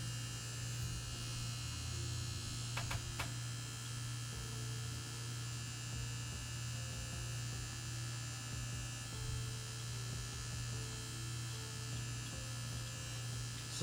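Ez Tattoo Nano tattoo machine running at 5.5 volts while lining with a 3-round liner, a steady low electric buzz with a coil-like hum, continuous and fairly faint, with no talking.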